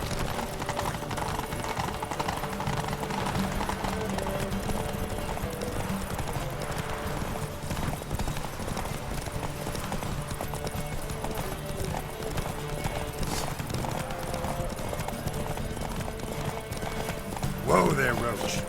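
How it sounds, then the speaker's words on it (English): A horse gallops in a race in The Witcher 3, rapid steady clip-clop hoofbeats running throughout over a continuous game background, with a short whinny-like burst near the end. "Whoa there, Roach."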